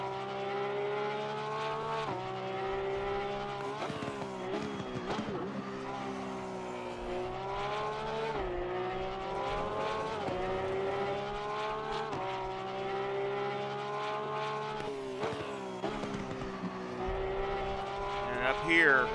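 A Porsche 911 GT3 R race car at Barcelona in a racing video game, its engine droning steadily with rising and falling revs through gear changes, loud and continuous without any talk.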